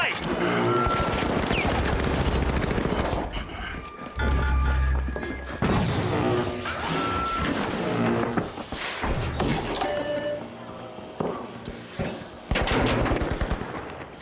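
Rapid gunfire from a shooter video game: dense, loud bursts of automatic fire with sharp shot impacts, continuing almost without pause, with a voice speaking briefly over it.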